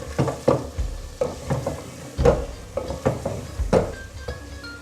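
Mutton and potatoes being stir-fried in a pot, loud close sizzling broken by repeated scraping stirs at an uneven rhythm, with occasional light clinks of the spoon against the pot.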